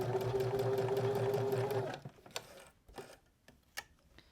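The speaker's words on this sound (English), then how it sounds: "I'm going to start with my needle down in my fabric and just stitch all the way across." A home sewing machine runs a straight stitch across fabric for a pocket edge, a fast steady mechanical whir for about two seconds, then stops, followed by faint clicks and taps of handling.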